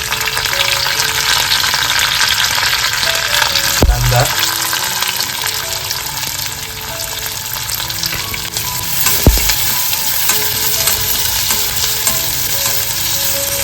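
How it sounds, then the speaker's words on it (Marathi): Curry leaves and garlic sizzling in hot oil in a kadai, a loud, dense, continuous spitting crackle close by, broken by a couple of sharp utensil knocks. "कढईमध्ये थोडा टाइम तेल तापत ठेवला होता इकडे कडीपत्ता घालून घेतोय"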